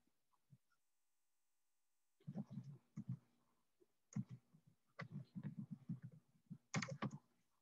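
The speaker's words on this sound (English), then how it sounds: "So I'm gonna type that in because it's 10 times easier if you have that." Typing on a computer keyboard during an English class session on MLA citations, bursts of quick close clicks in an uneven rhythm with short pauses, fairly quiet and with no talk.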